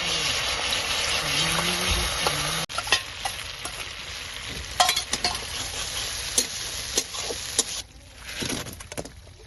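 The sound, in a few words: Amul butter with chopped ginger, garlic and green chili frying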